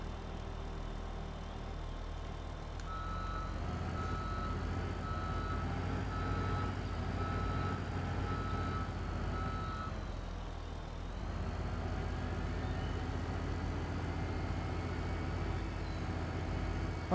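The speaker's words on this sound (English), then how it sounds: "Oh, it has like a little turbo sound" A JCB wheel loader in Farming Simulator 2015 drones with a steady low engine rumble, a faint whining turbo tone rising and falling over it, and a brief high beeping stretch in the middle.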